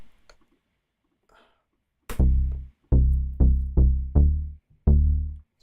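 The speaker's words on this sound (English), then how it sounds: "So I have a basic Mini Moog playing from our synth, the Mini V." A basic Minimoog-style bass from the Mini V software synth, played dry with two oscillators, a short run of punchy deep bass notes in a syncopated rhythm, loud and alone after a near-silent start.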